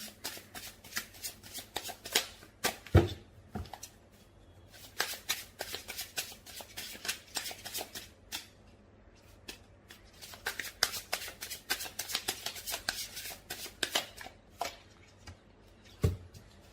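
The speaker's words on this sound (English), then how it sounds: "Give me one card for the likely outcome." Tarot cards are shuffled by hand in repeated bursts of crisp riffling and flicking, with short pauses and a soft tap between rounds, close and fairly quiet.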